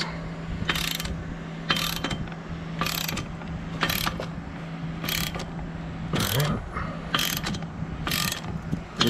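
Ratchet wrench cranking on exhaust mid pipe bolts of a Mazda Miata, about nine short bursts of rapid clicking, close and evenly spaced, over a faint steady hum.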